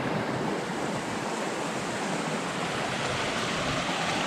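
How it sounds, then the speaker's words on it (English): A hiker in trail runners wades through a stream on the Foothills Trail, heard as a steady, loud, continuous rush of water with no break. "So we going through the water"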